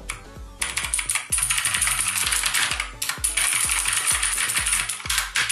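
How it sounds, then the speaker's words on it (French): Fast typing on a DREVO Calibur backlit Bluetooth mechanical keyboard with AZERTY layout: a dense, continuous clatter of sharp key clicks with heavy thocks, close and loud, with no talking. "Je vais très vite là pour taper, hein."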